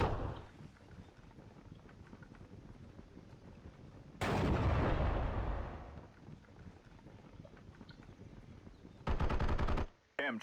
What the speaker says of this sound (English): MG42 identified.